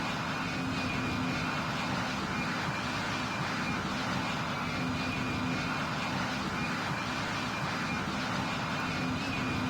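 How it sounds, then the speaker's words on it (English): Constant droning hum of a multi-engine airplane at climb power, even and unchanging throughout, with a faint steady tonal whine over the broadband roar. "The plane is climbing normally."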